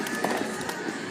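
Fourth of July fireworks going off, a steady crackling and popping with a few sharper bursts, dense and fairly loud throughout with no talk.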